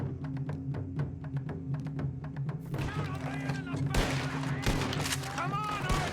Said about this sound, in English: Double-barreled shotgun.